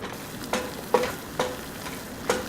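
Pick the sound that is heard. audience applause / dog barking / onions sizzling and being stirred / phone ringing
onions sizzling and being stirred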